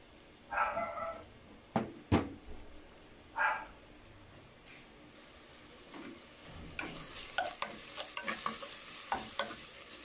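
Garlic sizzles in a pan for pork belly adobo while a spatula scrapes and stirs in several short bursts, with a faint continuous frying hiss and a burst of quick clicks near the end.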